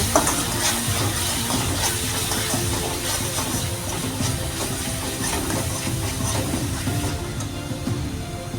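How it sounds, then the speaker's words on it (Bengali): Salt, turmeric, cumin and coriander powder sauté in a pan for a potato curry, giving a steady, close, dense sizzle with faint scraping from stirring throughout. "সমস্ত উপকরণগুলো ভালো করে কষিয়ে নেব"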